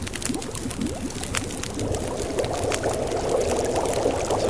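Water being boiled in the survival video game The Long Dark, a continuous bubbling, pouring-like wash that grows fuller and louder toward the end, with no voices.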